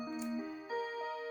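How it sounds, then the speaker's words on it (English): An audiobook scene in which a clock ticks steadily and softly in a quiet room for just over a second, with no voices present. "There goes my clock."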